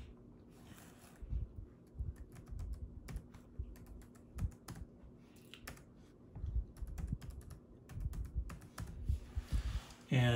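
A password is typed on a Chromebook keyboard. The close, irregular key clicks come in quick bursts and short pauses over a faint steady hum.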